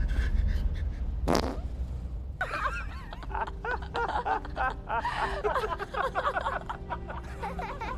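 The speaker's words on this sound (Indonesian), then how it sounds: "Tiba-tiba Dorothy mengeluarkan kentut yang membuat mereka tertawa terbahak-bahak" Fart by a character in the film Space Sweepers (2021), a short loud blast near the start, followed by several people snickering and laughing heartily together.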